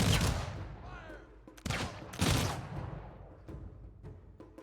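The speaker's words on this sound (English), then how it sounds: "Ready, aim. Take aim. Fire." Musket volleys ring out in the strategy game Humankind, several sharp cracks followed by rolling echoes, two heavier blasts standing out among scattered shots, fairly loud and unaccompanied by talk.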